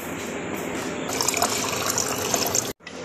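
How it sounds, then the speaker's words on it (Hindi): Tap water gushes steadily into a plastic bottle in a home kitchen, a continuous close splashing fill that rises in pitch and cuts off abruptly near the end before resuming briefly. "और इसमें लेंगे पानी।"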